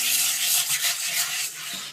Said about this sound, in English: And then we can just use the stiff bristle brush